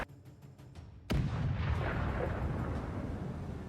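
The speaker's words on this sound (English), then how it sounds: "Ukrainian tanks become the main target of Russian artillery" Russian artillery fire aimed at Ukrainian tanks on a front line: a sharp, loud blast at about one second gives way to a sustained rumbling roar, after a few faint distant thuds.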